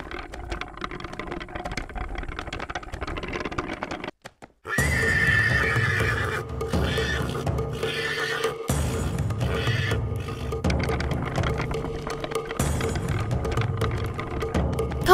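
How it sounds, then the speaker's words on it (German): In an animated fairy-tale scene, an approaching horse-drawn carriage is heard with hooves clip-clopping and a horse neighing loudly over a steady rattling, whirring background, interrupted by a brief drop near the middle. "da nähert sich eine Kutsche"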